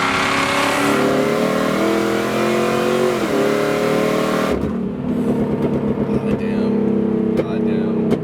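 An 800 HP Cadillac CTS-V engine roaring loudly as it accelerates, its pitch climbing and falling through a sustained pull, then dropping into a rougher, lower rumble; a voice speaks over the engine.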